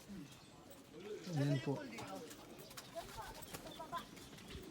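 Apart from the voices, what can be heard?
pigeons cooing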